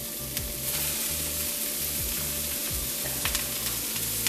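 Tempeh frying in a pan with browned vegetables, a steady broadband sizzle running throughout with low rhythmic stirring scrapes underneath and a few brief sharper crackles.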